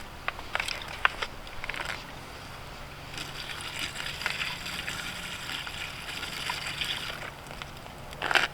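A candy bar and lemonade are tipped into a Modiwell dry flush toilet, making soft, quiet sloshing and splashing that comes in short bursts, with a slightly louder splash at the end and no talking.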